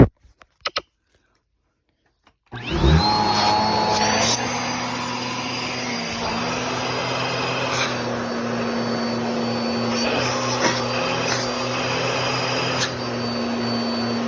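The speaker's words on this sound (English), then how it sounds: "what the device sounds like when you choke off the hose" After a few faint clicks and a pause, a Bissell Power Force Compact vacuum cleaner motor starts up loudly with its hose blocked, a strained, high whine that stays steady and droning throughout.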